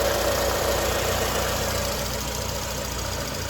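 A 2014 Ford Fusion engine idles steadily and close, an even low hum with a constant drone and no change in pitch throughout.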